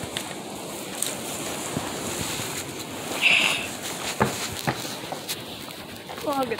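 Wind gusting outdoors in cold winter weather, a steady broadband rush with louder gusts near the middle and end, plus faint scattered knocks and bird-like chirps.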